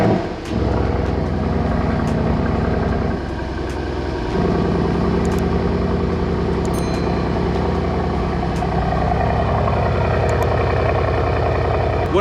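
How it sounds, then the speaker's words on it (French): A Mercedes C63s AMG V8 idles after a cold start following a full day unused, a steady low rumble with a few brief revs and flutters throughout. "c'est l'heure du petit cold start, donc ça fait 24 heures qu'elle n'a pas démarré"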